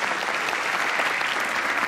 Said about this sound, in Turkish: Alkış rica ediyorum sizlerden.